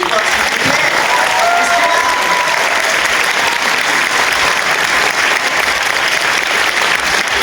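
An audience at a voice actors' Q&A panel during a Japan geek festival in Liège applauds, producing a loud, steady wash of clapping from a sizable crowd that continues throughout without pause.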